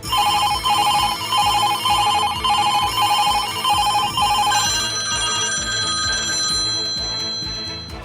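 A landline telephone bell rings in a Prayagraj office, rapid trilling bursts repeating in a steady pattern, loud and close, before fading into a sustained ringing tone.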